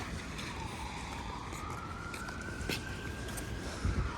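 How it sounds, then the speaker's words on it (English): A faint, distant siren wails with a slowly rising pitch against low, steady background rumble on a city street in Toronto. "So I hear a siren."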